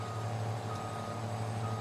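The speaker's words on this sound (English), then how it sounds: "It's like the loudest truck ever, reverse or drive for that matter." In Farming Simulator 22, a truck engine drones loudly and steadily while its reversing alarm sounds, the in-game noise filling the moment alone without any voices.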